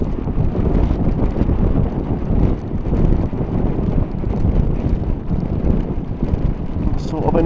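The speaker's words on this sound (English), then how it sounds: "Man, that's windy." Steady, loud wind buffeting a helmet microphone during a test ride on a Suzuki V-Strom 800 DE motorcycle in gusty weather, a continuous low rumbling roar throughout with the engine buried beneath it.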